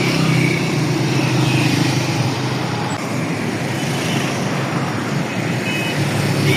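Road traffic at Qasim Market Chowk on Peshawar Road, Rawalpindi, near an underpass project: a dense, steady roar of engines and tyres that never lets up, with no voices.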